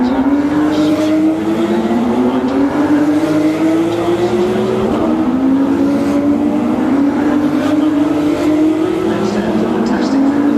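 A Porsche race car engine screams at the Singapore Grand Prix street circuit, loud and close, its pitch climbing steadily through repeated upshifts as it accelerates to around 200 km/h in fifth gear, while a commentator talks throughout.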